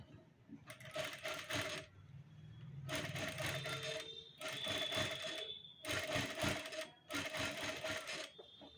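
Sewing machine running in five separate bursts of about a second each, stitching a double row on fabric for a katori blouse, near and fairly loud with brief pauses between runs.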